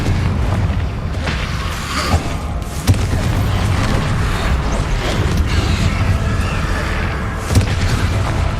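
Confringo fire spell cast during Hogwarts Legacy combat: dense, continuous game battle noise with booming impacts and a few sharp blasts near 3 and 7.5 seconds, no voices.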